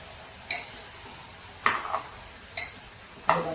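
Mutton and onions fry in a pan with a faint, constant sizzle, punctuated by four distinct stirring scrapes and clinks of a spoon against the metal, spaced about a second apart, close and otherwise quiet.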